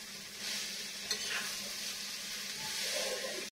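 Khichuri being reheated and stirred in a pot, giving a steady, close sizzle with soft scraping strokes of a spoon running continuously for a few seconds.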